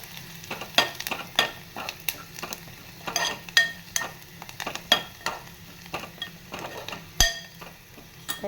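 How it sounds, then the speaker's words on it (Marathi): Onion sautéing in a pan with a spatula, sharp scraping strokes at an irregular rhythm over a soft steady sizzle, close and moderately quiet, no talking. "हे बघा छान कांदा आपण आता परतवून घेतोय."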